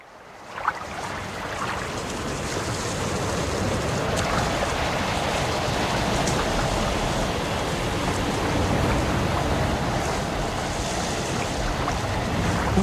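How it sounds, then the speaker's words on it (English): Steady, dense rain ambience for a seaside jetty scene in a Dungeons & Dragons game, a continuous broadband wash with no pauses, close and even throughout. "And it's been raining a little bit."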